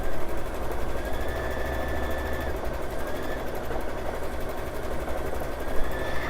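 A home embroidery machine stitches a quilt design with a steady, rapid mechanical chatter and hum that stays constant and close throughout, with no pauses.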